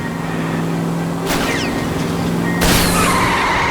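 Tyres screech as a car skids on a wet road during a police pursuit in L.A. Noire, with two sharp impacts or shots cutting over a steady engine drone.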